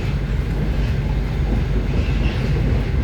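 Passenger train rolling along the rails near the Sea of Azov, heard from inside the carriage as a loud, steady rumble and rattle that runs unbroken throughout, with no voices.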